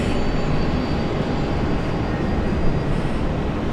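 A Fokker airliner at Brisbane airport gives off a steady, broad engine roar that holds level and loud for the whole stretch, with no voices over it.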